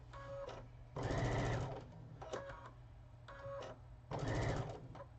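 A sewing machine stitches across the center of a quilt in a few short, fairly quiet bursts separated by brief pauses, with no voices.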